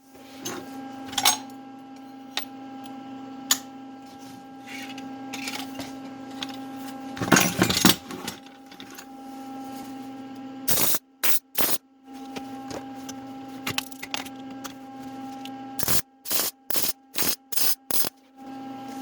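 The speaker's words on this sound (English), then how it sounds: "So I'm just going to weld that all up" Bursts of electric welding on the chimney base mount of an ammo can wood stove, a series of sharp crackling spurts separated by gaps over a steady workshop hum, close and fairly loud.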